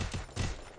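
Gunfire in a Free Fire 4v4 wagered match between Loud Eltin and Pain Dante, two short loud bursts of shots about a third of a second apart, with a low rumble beneath.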